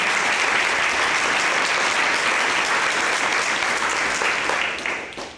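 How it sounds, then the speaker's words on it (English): A library budget event audience gives a loud, sustained round of applause that fills the room evenly and begins to fade in the final second. "So would you give Jennifer a round of applause?"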